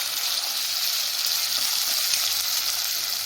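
Onions with ginger garlic paste fry in a pan, giving a steady, close, bright sizzle that continues evenly with no talk.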